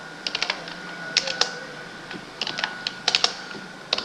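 Keys clatter on a computer keyboard in short irregular bursts of quick taps with brief pauses between, close and clear with no talking.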